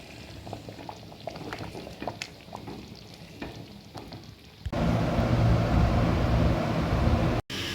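Water from a tap fills a container. Soft irregular splashes and stirring noises come first, then a loud, steady gushing rush takes over, cuts off briefly near the end and resumes.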